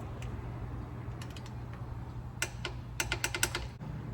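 A torque wrench tightens the fill and drain plug on a 2011 Toyota Tacoma differential, with several quick close clicks and ratcheting taps in short bursts against a quiet low background hum.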